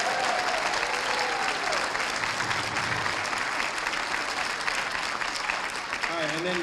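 A room full of people applauds speakers at a community celebration breakfast, steady dense clapping throughout with a faint voice briefly audible near the start and end.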